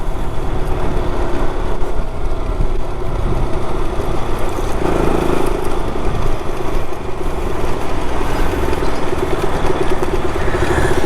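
KTM motorcycle engine running with a steady, continuous mechanical drone and a faint repetitive ticking, close and loud throughout, with no talk.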